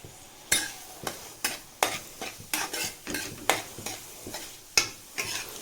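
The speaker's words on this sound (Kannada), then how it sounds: "ಇದು ಬಟರ್ ಮೆಲ್ಟ್ ಆಗೋ ಅಷ್ಟರಲ್ಲಿ ಸ್ವಲ್ಪ ಆನಿಯನ್ಸ್ ಹಾಕ್ಕೊಂಡ್ಬಿಡ್ತೀನಿ. ಆನಿಯನ್ಸ್ ಹಾಕಿ ಸಾಟೆ ಮಾಡ್ಕೋಬೇಕು" Onions sautéing in melting butter in a pan, a steady low sizzle broken by roughly a dozen sharp scraping stirs, close and fairly loud, with no talking.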